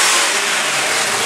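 A 2003 Chevy LS 6.0 V8 engine in a cradle revs briefly with a quick throttle snap, a loud short burst of rising engine noise heard close by.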